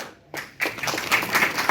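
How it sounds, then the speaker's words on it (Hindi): Audience clapping at an outdoor political gathering in a Supreme Court courtyard, starting after a brief pause and building into a dense, moderately loud patter of hands. "तालियां, प्लीज तालियां"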